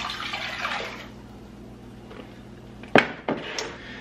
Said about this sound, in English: then you want to use 2 cups of vinegar